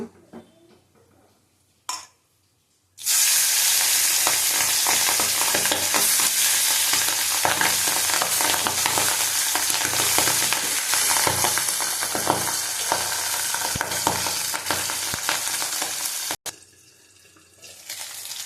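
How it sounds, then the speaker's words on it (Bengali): Pabda fish frying in hot oil in a pan, a loud, steady sizzle and spatter that starts abruptly and runs continuously close by, then cuts off sharply near the end. "যখন ঢাকা দিয়ে দিয়েছিলাম, যা ফাটে মাছ, ভয় লাগে।"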